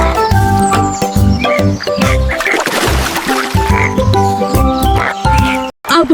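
Frogs croaking by water, a rapid series of loud, close, rhythmic croaks with a brief splashy burst midway, under a musical backing.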